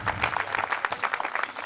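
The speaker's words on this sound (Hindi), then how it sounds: "मैं चाहता हूँ जीतू भैया के सम्मान में पूरा सदन एक बार जोरदार तालियां बजाएं" A crowd at a Hindi comedy poetry show claps loudly in honour of Jitu Bhaiya, with close, distinct hand claps in quick bursts forming a brief, lively round.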